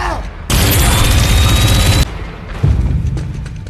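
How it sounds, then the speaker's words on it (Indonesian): Soldiers fire a loud, sustained burst of gunfire in a film scene, a dense continuous volley that cuts off abruptly, followed by a heavy boom and lingering rumble. "Diego lebih dulu mati ditembak oleh para tentara yang menjemput Kelly dan Eva"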